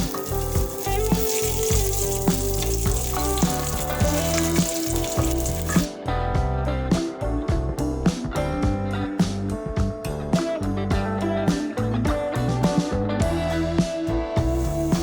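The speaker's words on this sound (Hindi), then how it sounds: "पिस्ता और किशमिश, इन सब चीज़ों को फ्राई करना है।" Pistachios, raisins and almonds frying in a pan for sweet zarda rice: a continuous crackling sizzle under loud rhythmic background music throughout.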